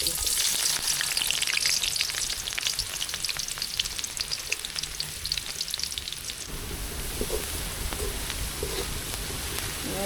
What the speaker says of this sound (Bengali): তেল গরম হয়ে গেছে এখন আমি পেঁয়াজ দিয়ে দিচ্ছি কুচানো পেঁয়াজ দিয়ে